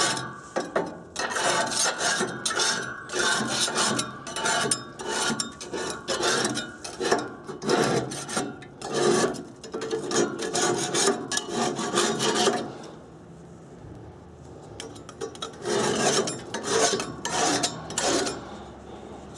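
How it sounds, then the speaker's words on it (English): Cast iron grates of a Weber Genesis barbecue being scraped clean, a close rhythmic rasping in quick repeated strokes, a short quieter lull, then more scraping, no talking. "You're not really going to damage them by giving them a scrape."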